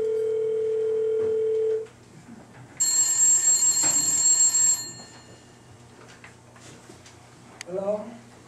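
A house telephone rings in a steady tone that cuts off, followed by quiet, a bright electronic ringing burst lasting about two seconds, and then a faint voice near the end.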